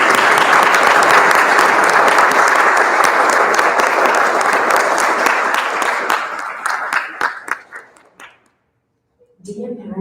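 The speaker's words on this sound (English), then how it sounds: "Please join me in a moment of applause to acknowledge all the exceptional people here in our school community." Sustained applause from a large audience at a school graduation ceremony, loud and steady for several seconds, then thinning to scattered claps and fading into near silence before a voice begins at the end.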